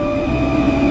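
A New York City subway train rolls along with a steady rumble and a sustained metallic whine, close and loud, filling the moment with no talk.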